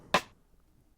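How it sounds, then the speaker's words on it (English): A single sharp rim shot, a short dry click that decays quickly into quiet. "The rim shot sounds like this."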